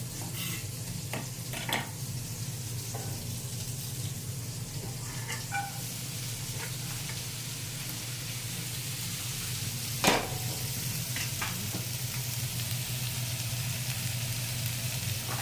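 Sausage sizzling and frying in a pan with steady, moderately quiet crackle throughout, a few sharper utensil clicks and scrapes now and then, including one louder knock near the end.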